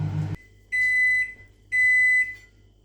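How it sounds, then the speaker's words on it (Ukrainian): A microwave hums quietly while two long, steady electronic beeps sound one after another, clear and close. "вмикнули вже мікрохвильову піч і розігріваємо картошку смажено"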